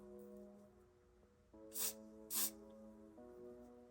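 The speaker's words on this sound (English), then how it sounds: "I'm going to secure it with some wig spray." Two short bursts of aerosol wig spray hiss close by, separated by a brief pause, over a faint tonal hum.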